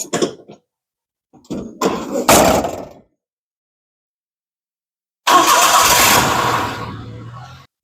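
A van's engine cranks and starts before a first test drive on new wheels, following a few door clunks and handling noises, then idles loudly for a couple of seconds before fading.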